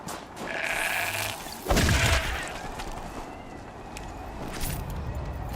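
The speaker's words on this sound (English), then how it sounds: "Oh, it's a goat." A goat in the video game Horizon Zero Dawn: The Frozen Wilds gives a drawn-out bleat early on. A sharp thump follows, then quieter game ambience with faint rustling and steps.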